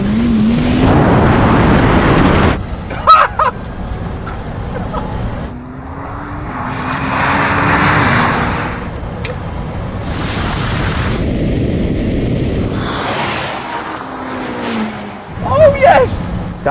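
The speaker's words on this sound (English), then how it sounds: "Here's a clip of me racing a Rimac Nevera against a Ferrari" A Rimac Nevera electric hypercar races a Ferrari SF90, loud motor and tyre roar swelling and fading in passes, with rising electric whine and engine tones, wind rush and a few sharp transient bursts.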